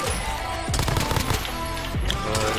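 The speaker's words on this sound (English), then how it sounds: "Oh, it's like people firing around." Rapid automatic gunfire crackles in the Warzone video game, with several close, loud bursts of shots overlapping in quick succession.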